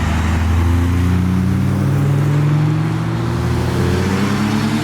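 A turbocharged Lexus IS200 pulls away from a night car meet, its engine droning loud and close with rising and falling tones as it accelerates, over steady road noise.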